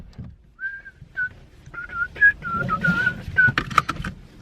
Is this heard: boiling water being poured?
no